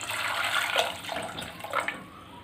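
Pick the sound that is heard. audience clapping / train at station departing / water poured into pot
water poured into pot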